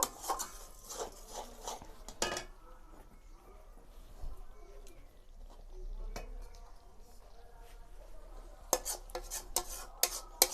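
A pot of homemade tomato sauce is lifted off the stove with soft clinks and scrapes of metal, a few sharp knocks near the end, all quiet and close.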